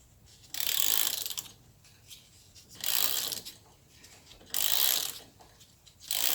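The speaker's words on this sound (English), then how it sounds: "You make it look too easy with a ratchet." Ratchet wrench working a tight starter motor bolt loose on a long-parked Honda ATC three-wheeler, four bursts of rapid clicking spaced about two seconds apart, close and fairly loud with quiet gaps between.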